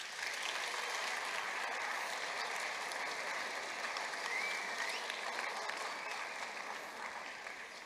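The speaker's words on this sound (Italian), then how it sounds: "Fate un applauso al respiro." An audience at a live event applauds continuously, a dense and even wash of many hands clapping that holds steady for several seconds at moderate distance before easing slightly at the end.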